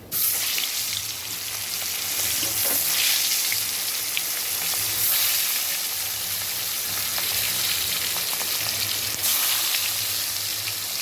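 Fish fries in hot oil in a pan, a steady dense sizzle with scattered crackles and pops running throughout, close and fairly loud with no talk.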